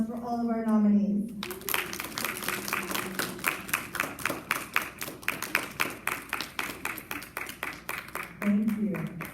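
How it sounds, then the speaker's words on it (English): Audience applause for award nominees at a school ceremony, a dense burst of many hands clapping that fades into sparse, rhythmic claps, with a voice speaking at the start and again near the end. "And now let's have applause for all of our nominees."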